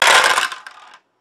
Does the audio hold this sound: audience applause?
no